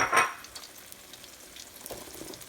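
Eggs go into hot oil in a pan for fried rice, setting off a short burst of sizzling that quickly settles into a faint, steady frying hiss.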